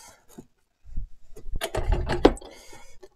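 A drill boring 23 mm holes through a wooden board for a pinball cabinet's topper panel, heard after a quiet start as a loud stretch of rough, grinding, rubbing noise in irregular bursts lasting about two seconds.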